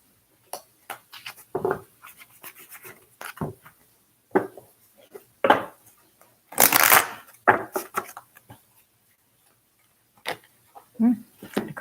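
Tarot deck being shuffled by hand, with irregular close riffles, flicks and card snaps in scattered bursts separated by quiet gaps.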